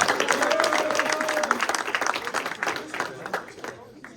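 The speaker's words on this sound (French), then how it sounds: "On peut l'applaudir." Steady arena crowd applause at an MMA event press conference fills the room, dense and sustained, with voices calling out underneath before it slowly thins toward the end.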